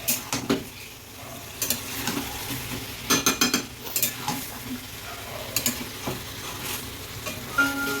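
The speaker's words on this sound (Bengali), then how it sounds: "আমি মশলার সাথে ভালো করে মাংসটা কিছুক্ষণ কষবো ভালো করে কষে নেব তিন চার মিনিট" Chicken pieces fry with spices in a pan for chicken darbari, a soft sizzle broken by repeated scraping and clattering strokes of a utensil against the pan, close by and without speech.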